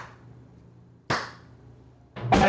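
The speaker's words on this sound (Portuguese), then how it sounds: "É mais parecido só com as palmas normais, não é?" Palms struck together in a physics demonstration, three separate sharp claps spaced about a second apart, the last one louder and followed by a short burst of clapping, in a quiet room.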